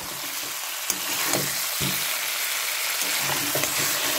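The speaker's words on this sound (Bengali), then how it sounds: "আমি আবার একটু নাড়িয়ে নিয়েছি ভালো করে।" Chicken curry frying in a pan is stirred, giving a steady close sizzle broken by several irregular scraping strokes of the spoon, with no talking.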